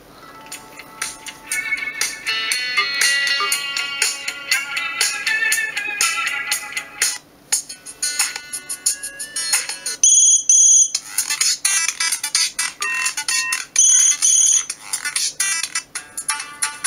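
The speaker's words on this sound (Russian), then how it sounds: "Давайте рингтоны посмотрим" Several stock ringtones play in turn on an MTS 970 Android smartphone, bright electronic melodies sounding loud and close with short gaps between tunes, no talking.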